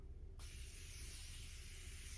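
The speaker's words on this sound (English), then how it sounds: "Add a little more setting spray" A makeup setting spray bottle releases one steady, close, soft hissing mist that starts abruptly and continues for almost two seconds, with no voices.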